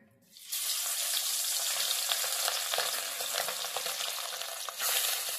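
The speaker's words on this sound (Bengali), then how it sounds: "এবার তেলের মধ্যে মাছের মাথার টুকরোগুলো দিয়ে দিলাম।" Fish head pieces drop into hot mustard oil in a wok and burst into a loud, dense, continuous sizzle that holds steady, with a brief surge near the end, close by and without speech.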